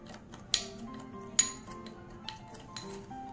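A spoon clinks against a bowl while tomato chips are mixed with salt, black salt and amchur powder. There are two sharp taps and a few softer scrapes and knocks, all close and with no talk.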